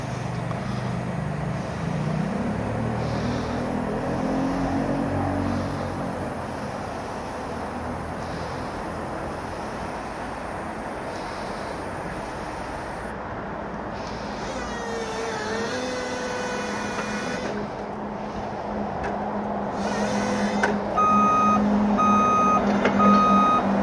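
A WCP20L forklift with a slipping drive wheel is test driven, its motor whirring steadily beneath a clear, repeating electronic reversing beep that comes in later and continues near and fairly loud.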